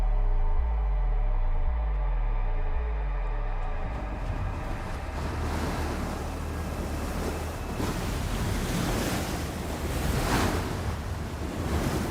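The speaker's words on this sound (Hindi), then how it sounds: "पानी का फोर्स बहुत ज्यादा है" Flood water rushing with great force through a flooded coal mine, a loud steady roar of churning water filling the whole clip, with a pulsing low rumble at the start and no voices.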